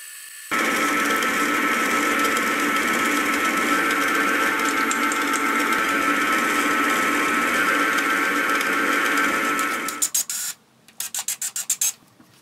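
A steady, loud rasping cut runs for about ten seconds as a slot is machined into the top of a metal grinder jig for a whetstone grinder, then stops and gives way to a series of short bursts.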